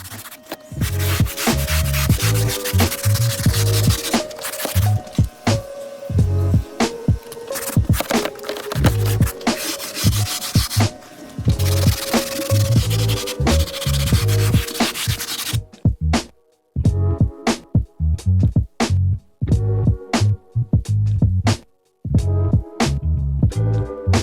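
Brisk, rough scrubbing of a hand brush against Pontiac Montana car upholstery, continuous back-and-forth strokes close up, with a few brief pauses toward the end.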